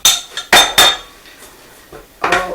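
A whisk clinks against a bowl while wet muffin ingredients are mixed, a few sharp metallic strokes in quick bursts followed by a pause and another clatter, close and fairly loud.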